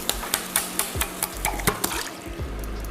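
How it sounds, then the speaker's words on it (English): Thick coconut milk or condensed coconut cream being poured into a pan, with wet clinks, scrapes and stirring knocks against the pan in a rhythmic run of sharp transients, up close and alone. "we are going to put the coconut milk, or the condensed coconut cream / coconut milk"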